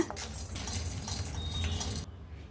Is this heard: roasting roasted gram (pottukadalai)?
yes